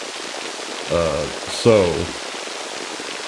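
Steady rain hisses evenly throughout, with a short spoken word partway through.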